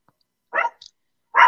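A dog barks indoors, two sharp loud barks spaced nearly a second apart with a faint yip between them, close and clear against silence.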